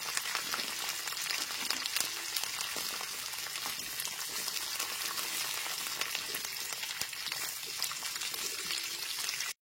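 Carrot and cauliflower pieces fry in hot oil in a pan for a mixed winter vegetable curry, giving a loud, steady crackling sizzle that runs unbroken throughout.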